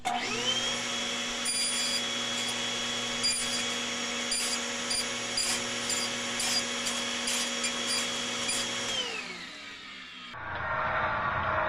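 A table saw runs at a steady whine while cutting a filter sock holder, the blade held loud and constant for about nine seconds before spinning down and fading, with no voices.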